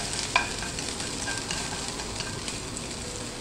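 Soy-seasoned bracken is stir-fried over low heat, giving a soft, even sizzle close by with light stirring scrapes and one sharp clink of utensil on pan near the start, with no talk.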